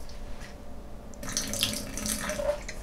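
Water pours from a tipped Yeti 12 oz stainless steel bottle into a kitchen sink, starting as a gurgling stream after a short quiet moment and splashing steadily to the end.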